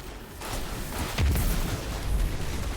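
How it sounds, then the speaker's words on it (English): A grenade blast in the Destiny 2 shooter, with a deep boom about a second in followed by a rumbling tail and a second lower thump, set against steady battle noise. "Love when my grenade gets shot out of the air."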